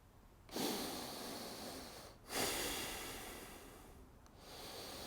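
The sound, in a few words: full slow breaths to recover after holding breath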